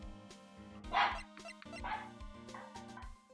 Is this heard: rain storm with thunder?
no